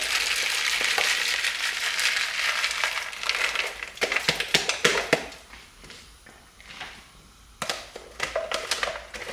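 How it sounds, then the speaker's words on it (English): Fresh green peas and corn tumble into a pot of homemade chicken noodle soup, giving a loud, close run of clattering, splashing crunches that ease off, then return in a few sharp bursts. "now it's time to add in the fresh green peas and corn"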